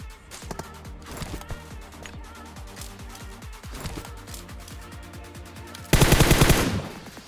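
Automatic weapons fire in a solo-versus-squad battle royale game, with repeated rapid bursts throughout and a loud, dense volley near the end. No talk is heard.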